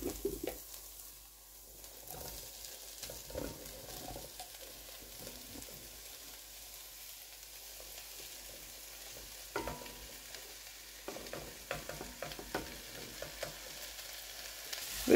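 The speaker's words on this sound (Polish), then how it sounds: "Wymieszamy i smażymy około 25 minut." Sausage and bacon frying in a pot with diced potatoes and peppers, a soft steady sizzle broken by scraping stirs toward the end, faint and with no talk.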